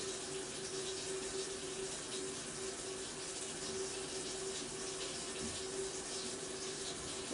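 Tap water runs steadily into a pot filled with potatoes for a seafood boil, a constant hissing stream with a faint tonal hum beneath, no talk.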